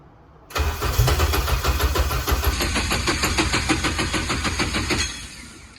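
A Honda Prelude with a swapped K24 engine cranks and fires up. The engine catches quickly and settles into a loud, steady, close idle with a rhythmic pulse, then the sound drops off near the end.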